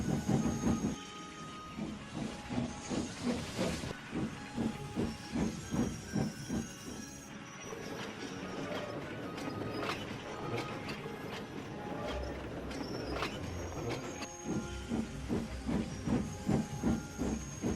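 Steam engines hiss steadily throughout, with sharp repeated bursts of venting steam and a rhythmic chuffing and clanking layered over a continuous background rush.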